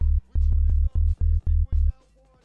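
A Serum synth sub bass using a digital harmonic series oscillator plays deep, loud stabbing notes in a choppy rhythm of short bursts before the final note fades out.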